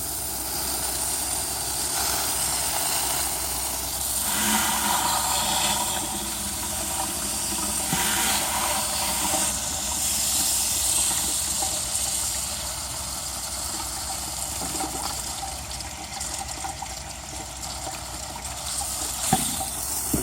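Water from a garden hose flushing through a car heater core, a continuous loud hiss and rushing gush lasting about twenty seconds with slight swells in level and a few small knocks near the end.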